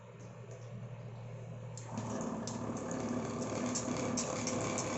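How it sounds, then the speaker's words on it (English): A hydrafacial machine's vacuum switches on partway through, shifting from a low steady hum to a louder, broadband whooshing suction drone that continues evenly at close range. "So vacuum has started."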